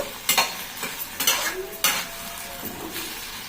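A low sizzle of tomato, dried red chili and garlic frying in a pan, punctuated by a few crisp stirring scrapes of a spatula against the metal.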